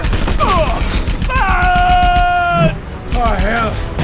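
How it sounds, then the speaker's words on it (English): Anti-aircraft flak gunfire in the Just Cause 2 video game pops in rapid bursts over a dense battle mix, with tonal game effects and voices layered on top. "I recognize the flak."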